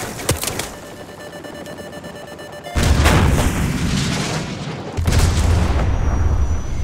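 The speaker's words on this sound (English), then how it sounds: "So, grab another Stinger and fire again." A Stinger missile launcher fires in Call of Duty Modern Warfare Remastered: a beeping lock-on tone gives way to two loud, close booming launches, each followed by a sustained roaring rush.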